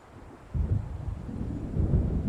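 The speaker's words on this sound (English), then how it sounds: "It seems there's a storm coming." Storm approaching in the video game Alan Wake: a low rumble of thunder swells in after a quiet start and keeps rolling with a steady, wind-like roar and no voices.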